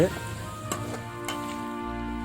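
Prawns fry in a pan with a steady, close sizzle, broken by a few faint scraping or stirring clicks, with no voices.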